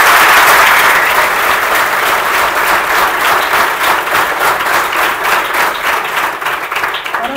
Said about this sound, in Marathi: सगळ्यांनी त्यांच्या टाळ्या वाजल्या